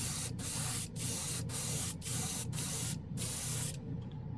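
An airbrush laying down a coat of Kaleido acrylic paint in close, even bursts of hiss, about seven short sprays with brief gaps between them, ending in quiet.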